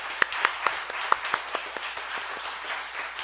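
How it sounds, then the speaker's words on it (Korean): Audience applause at a Korean church thanksgiving service opening a North Korea mission research institute, steady close clapping from a gathered congregation with sharp individual claps standing out, no talk over it. "대한예수교회 장로회 재건총회 선교위원회 큰 박수로 함께 해주시기 바랍니다."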